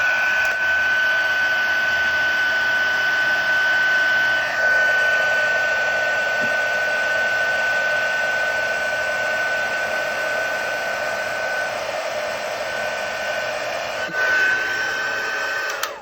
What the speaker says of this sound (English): So you need a heat tool.